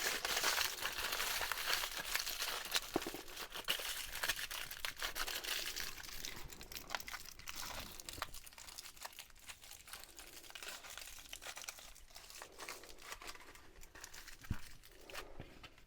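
Aluminum foil crumpled and pressed around a new replacement water pump for a C3 Chevy 5.7L 350 V8, a steady crinkling rustle that runs close and continuous throughout, with no talking.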